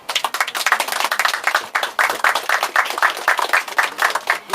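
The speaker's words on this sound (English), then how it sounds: "So I want to give these persons here a round of applause." Applause from the audience at a Paradise Games Valley Boys press conference, dense steady clapping from many hands that carries on loudly for the whole stretch, with no talking over it.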